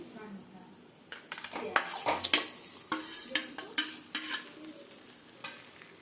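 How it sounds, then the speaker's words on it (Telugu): A spinach and potato paratha filling is stirred and mixed in a pan, giving repeated scraping strokes and soft clinks of a spoon against metal over a faint sizzle, close and moderately loud. "దీన్ని బాగా మొత్తం కలిసేలాగా కలుపుకుందాం."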